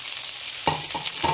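Idli powder being stirred into a sizzling tempering in a pan, a steady hiss of frying oil broken by three scraping stirs of the spatula, close and clear.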